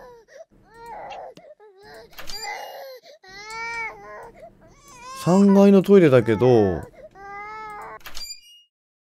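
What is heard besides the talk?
baby crying in a horror video game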